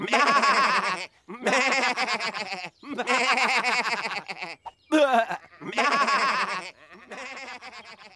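Cartoon sheep in the French Tractor Tom series bleat in a string of loud, close, wavering calls, one after another with short breaks between them.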